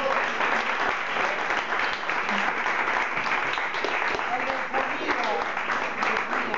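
An audience at a live show gives sustained applause, thick and continuous clapping from many people for about six seconds, with voices and scattered shouts mixed into the crowd noise.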